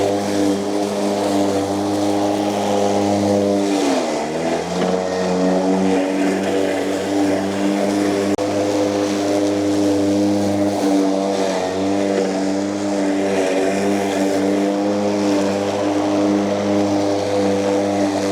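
A Cramer Optimus ATM53A mower runs at its lowest blade speed, giving a steady, loud motor drone with strong even harmonic tones and a slight pitch dip early on, continuous throughout with no voices.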